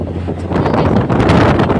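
Wind buffets the microphone in rough, gusty bursts, a loud rumbling rush while riding in an open tuk-tuk.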